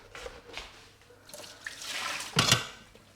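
Wash water is tipped out of a Thermomix bowl in a kitchen: scattered drips and small splashes, then a loud close gush of pouring water near the end.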